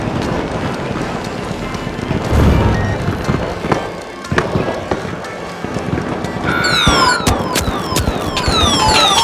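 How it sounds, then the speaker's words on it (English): A rocket launches in a video game, a loud roaring whoosh that swells and holds to the end, with sharp sweeping whistles and crackling bursts layered on top in the final seconds. "Sending a rocket."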